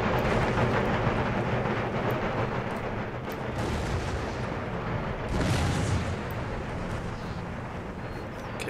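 Distant artillery fire in Empire Total War during a siege battle, a continuous low rumbling barrage of overlapping cannon booms with a slightly stronger swell partway through, steady and muffled with no talking.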